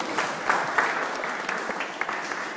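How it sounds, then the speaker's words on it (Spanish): Brief applause from a modest audience at a book presentation, light scattered clapping with a few sharper individual claps standing out, short and moderately near. "Un fuerte aplauso, por favor."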